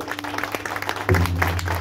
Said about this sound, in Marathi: तर जोरदार टाळ्या आमच्या बुवांसाठी